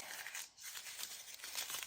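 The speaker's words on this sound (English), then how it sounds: "I'm going to add some packaging paper. Just crumpling it up a bit." Packaging paper crinkles and crackles as it is crumpled up by hand for a denim craft tag, a close, dense rustle running throughout with a brief pause partway.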